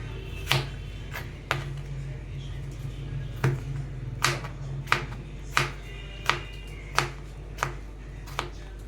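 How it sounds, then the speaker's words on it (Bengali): A knife chops fruit for fruit custard on a cutting board, about a dozen sharp, separate thunks in a loose, regular rhythm, close and clear over a faint low hum, with no talk. "এইভাবে সব ফলগুলোকে কেটে নেব।"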